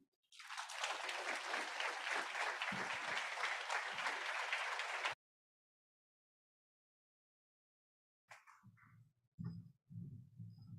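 A college audience gives a long burst of steady, dense applause for about five seconds, then the room goes silent, followed by a few faint scattered sounds and soft voices.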